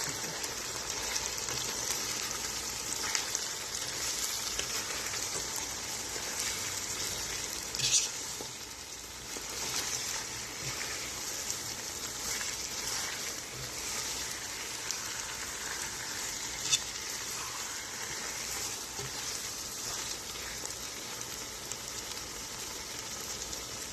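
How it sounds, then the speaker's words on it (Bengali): Chicken biryani stirred in a pan, giving a steady sizzle and soft scraping that runs evenly throughout with a few brief clinks. "তারপর আমি এটাকে নাড়াচ্ছি"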